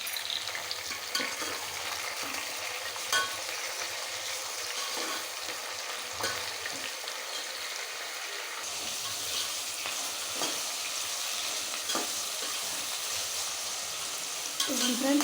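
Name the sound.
tomatoes frying in a pan for fish curry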